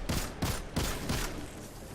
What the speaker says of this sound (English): These annoying freaking Cabal that just keep shooting me.